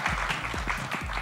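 An audience claps for actor Vidyut Jamwal at the Baadshaho trailer launch, a short steady burst of applause from a crowd.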